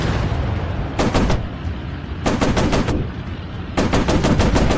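Aircraft machine guns fire in the night-mission flight game Warplanes: Battles over Pacific, three sharp, rapid bursts of several rounds each spaced across the clip over a constant loud engine drone.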